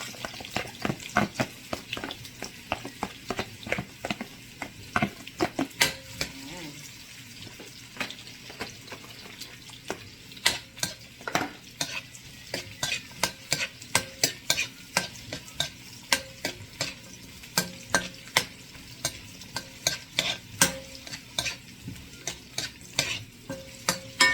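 Garlic and onion sauté in a pan for pancit bihon with a steady soft sizzle, while a utensil scrapes and stirs in frequent sharp clicks, close and fairly quiet, with no talking.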